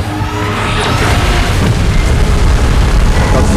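Godzilla blasts an energy beam in a loud, continuous roaring rush with deep booming rumble that swells steadily and never lets up for several seconds, dense and close like a sustained explosion.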